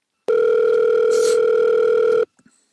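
A steady, loud telephone tone hums for about two seconds on an outgoing phone call, then cuts off abruptly, with a few faint clicks afterward and no talking.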